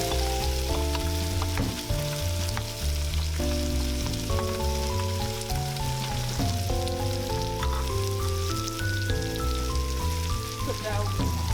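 Onions frying in a pan for lamb alicha, a steady sizzle running through the whole stretch beneath a continuous bed of tonal background music.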